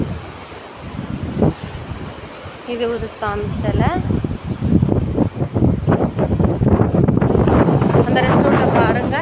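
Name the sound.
sea waves and wind at the Rameswaram shore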